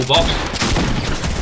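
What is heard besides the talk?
shotgun and spraying gunfire in Fortnite video game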